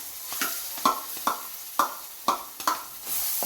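A spiced paste is stirred into golden-fried tempering in a pan for bottle gourd pickle, about six distinct scraping strokes over a soft sizzle, close by, with no talking.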